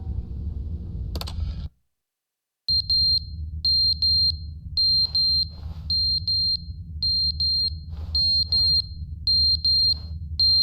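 An alarm rings in The Stanley Parable video game. It is a steady run of shrill electronic beeps in short repeated bursts over a low hum, after a brief drop to silence.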